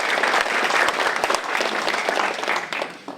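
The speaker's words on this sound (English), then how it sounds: "I think that deserves a round of applause." Audience applause at an evening event on sexual recovery after prostate cancer, a dense, steady clapping from a sizable crowd that holds for about three seconds before thinning out at the end.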